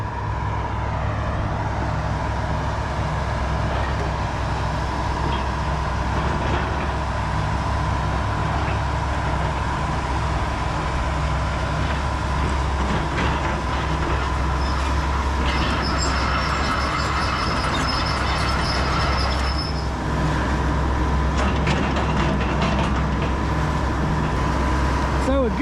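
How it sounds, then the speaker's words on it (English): A Rotochopper grinder makes a heavy, continuous mechanical roar as it grinds trees and pine logs into mulch through a primary grind with a 4-inch screen, and a voice talks over the din. "the trees and all the pine logs and anything, you know, of substantial size will then go into the grinder through the primary grind"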